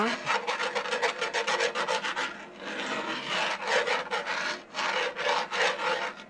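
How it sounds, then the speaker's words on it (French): A utensil scrapes the bottom of a pan to deglaze pork steaks with white wine, a loud, close, rhythmic rasping that repeats in quick strokes with short pauses and no talking. "Et je vais déglacer avec une cup de vin blanc. Voilà. On gratte bien."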